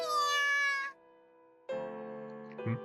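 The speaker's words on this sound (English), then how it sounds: "It is still a kitten after all." A kitten in a video game gives two clear, close meows, the first long and drawn out, the second following after a brief quiet hum, with a short squeak at the end.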